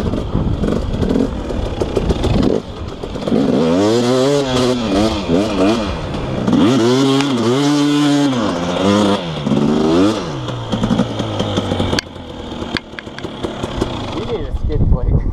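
Enduro dirt bike engine on a trail, loud and close, its pitch rising and falling through repeated throttle revs and gear changes, with wind buffeting throughout and a voice speaking over it.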